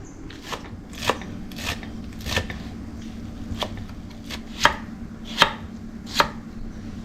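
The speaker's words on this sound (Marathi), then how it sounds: "फक्त कोथिंबीर आणि टोमॅटो कापून घेते" A knife chops coriander and tomatoes on a board in a home kitchen, with irregular crisp taps that grow sharper toward the end, heard alone without talk.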